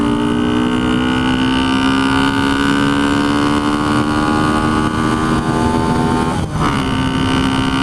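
A 1976 Honda CB125S engine drones while ridden at low RPM, a steady close buzzing hum with a slight rise in pitch, dipping briefly near the end.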